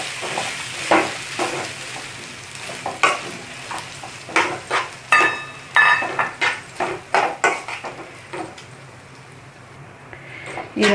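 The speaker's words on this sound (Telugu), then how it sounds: "వేసుకొని పోపు అంతా కలిసే విధంగా కలుపుకుందాం." A spoon scrapes and clacks in a pan, stirring cooked rice into an oil tempering of spices for Andhra-style lemon rice with the stove off, making a steady run of irregular knocks and scrapes.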